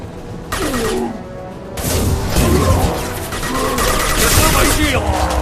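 Concussive shot ability fired in Mass Effect 2 on Insanity difficulty, dense gunfire and crashing impacts in a chaotic firefight, loud and continuous, with character voice lines over the battle.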